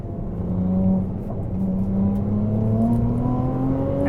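A Ferrari 296 GTB hybrid twin-turbo V6 revs steadily around 5,000 RPM, a loud continuous engine drone with rising harmonic tones heard alone from inside the car.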